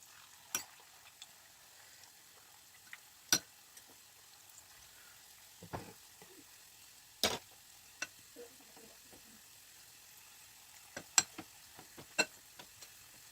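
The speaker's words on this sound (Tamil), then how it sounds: "ஒரு பேனில் எண்ணெயை கொதிக்க விட்டு நாங்கள் செய்து வச்ச இந்த மிக்ஸை கரண்டியால் கொஞ்சம் கொஞ்சமாக எடுத்து போட்டு பொரித்து எடுத்துக்கொள்ள வேணும்" Small spoonfuls of leftover dosa batter snack mix dropped into hot oil in a pan, giving a faint, steady frying hiss broken by scattered sharp clicks and pops, with no one speaking.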